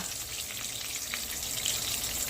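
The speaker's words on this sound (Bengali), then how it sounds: "আমি বেগুন ভাজি করি" Eggplant frying in a pan, a soft continuous sizzle with light crackle, steady and close with no talk.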